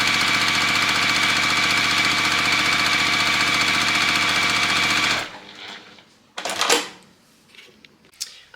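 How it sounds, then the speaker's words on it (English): A sewing machine stitches quilt block pieces together for a combination heart block, running in a fast, steady mechanical whir for about five seconds before stopping. A few handling knocks and rustles follow. "we're going to go ahead and trim them all and sew them all together"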